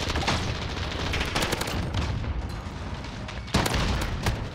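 Automatic RAM-7 assault rifle fire in Modern Warfare, several dense bursts of rapid shots with sharp cracks, a heavy loud burst near the end, continuous game combat noise throughout.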